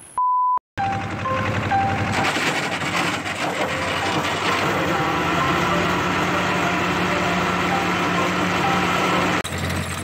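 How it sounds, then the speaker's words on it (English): Old John Deere 2010 tractor running with a faulty PTO, its engine rumbling steadily and loudly close by after a short beep at the start, with a rough, uneven mechanical clatter throughout. "some problems we're having with the good old John Deere 2010. The PTO is just not working right."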